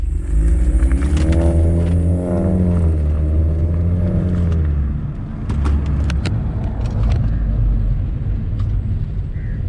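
A BMW F30 320i on ST XA coilovers weaving through a simulated slalom run, its engine rising and falling in wavering revs, then easing to a lower rumble with light knocks and rattles from the cabin.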